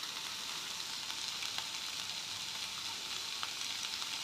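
Curry leaves dropped into hot oil for a Kadamba chutney sizzle and crackle steadily, a dense, even hiss with small pops, close and clear with no talking.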